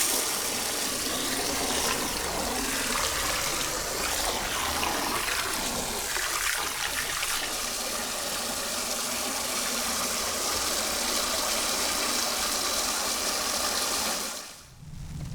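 Jetted bathtub churning bath water, a loud continuous rush of jets and gushing water with a low motor hum underneath, steady throughout and stopping suddenly at the end.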